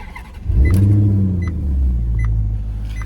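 A Maserati GranTurismo S engine cranks and fires up from inside the cabin, catching with a loud rumbling flare about half a second in, then settling into a deep, steady idle.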